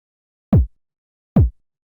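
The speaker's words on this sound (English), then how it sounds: "Here's the original sample." An original 909-style kick drum sample plays twice, each a short, punchy low thump with a fast decay, isolated with silence between the hits.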